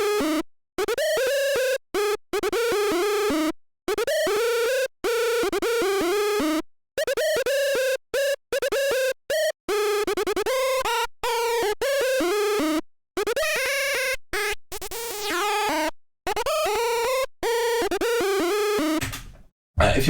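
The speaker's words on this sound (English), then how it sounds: "the amount will just make sure that we have the detuned sound in there" A detuned synthesizer top lead plays a melodic line of short, gated notes with rich, buzzy harmonics, separated by brief silences, loud and close with no talking.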